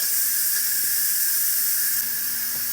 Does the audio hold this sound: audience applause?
no